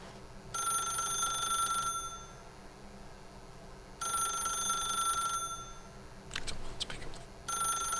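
An old-style telephone bell rings in The Stanley Parable, loud repeated bursts of about a second and a half separated by pauses, with a brief clatter near the end before the ringing resumes.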